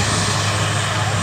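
Rescue helicopters come in to land at a flood-relief airfield, the loud, constant roar of rotors and engines filling a brief stretch without any break.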